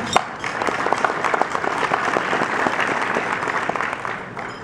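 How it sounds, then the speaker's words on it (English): An audience at a gathering applauds itself, a sustained even wash of many hands clapping at moderate distance, steady throughout without voices standing out. "please give yourself a round of applause"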